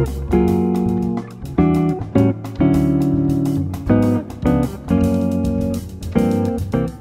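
Jazz chords from the bridge of a standard ring out in a series of sustained, loud harmonies separated by brief gaps, played alone with no talking.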